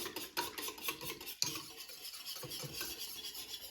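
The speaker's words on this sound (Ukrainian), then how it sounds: "цю яєчну молочну масу треба теж просто змішати, перемішати до однорідності" An egg and milk mixture for a quiche Lorraine is stirred by hand until smooth, with continuous close scraping and swishing of a utensil against a bowl, one sharper knock partway through, and no voices.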